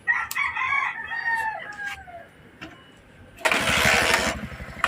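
A repaired engine cranks and catches, breaking into a loud, rough running burst near the end, preceded by a rooster crowing close by.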